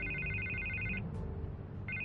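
In Batman: The Telltale Series, a telephone rings with a repeated electronic trill that stops briefly and then starts again, loud and close over a low background rumble.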